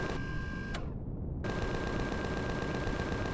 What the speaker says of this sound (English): That's actually a cannon drone as well.